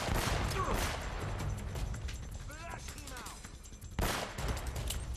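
Bursts of gunfire ring out in a church firefight in the video game Uncharted: Drake's Fortune, with someone talking over the shooting and a sharp burst near the end.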